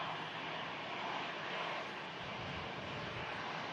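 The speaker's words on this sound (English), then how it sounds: "following this EasyJet in is an A319 from Malaga" An EasyJet Europe Airbus A319 with sharklets, arriving from Malaga, approaches Manchester Airport in stormy, gusty weather, its engines producing a constant loud rushing roar that stays steady throughout.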